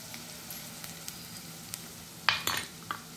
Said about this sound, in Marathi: त्याच्यावर अद्रक लसूणची पेस्ट